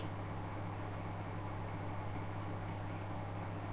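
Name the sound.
broken heater running as a fan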